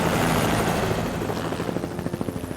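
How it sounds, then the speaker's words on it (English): A search helicopter flies over a Colorado Rockies canyon, its loud rotor roar dominating at first, then the blades' rhythmic chop becoming distinct as it passes overhead and begins to recede. "The helicopter crew decides to search another part of the valley."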